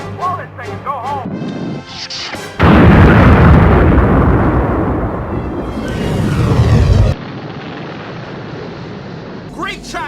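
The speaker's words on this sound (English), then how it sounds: "Now let's blow this thing and go home." A huge, roaring explosion from the 1979 film Moonraker breaks in after a short stretch of dialogue and music, then a long rumbling blast that fades as the score returns.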